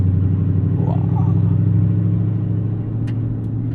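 A Dodge Charger Ute with a Hemi V8 idles and cruises near 2,000 RPM, producing a deep, throaty exhaust rumble that holds steady and eases slightly toward the end, heard from inside the cabin.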